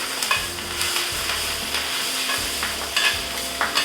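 Steady frying sizzle with scraping and clinking of tongs stirring food in a pan, a few sharper metallic clicks near the end.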